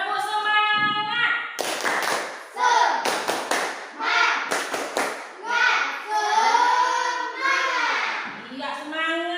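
Group of children doing a rhythmic 'tepuk semangat' clapping chant in an Indonesian classroom, sharp patterned claps and thumps interleaved with sung and chanted voices, close and lively.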